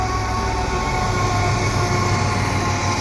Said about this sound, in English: GE locomotive.